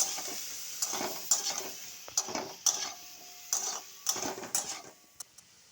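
Gandal leaf curry sautéed in a pan with a little water and sugar, a spoon scraping and clinking in a repeated rhythm over a faint sizzle, close and moderately quiet, no voices.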